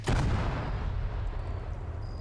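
A loud explosion booms at the start in a military shooter video game, after a hack is completed and a guided bomb spawns on a terminal, followed by a long rumbling decay with a faint high tone near the end.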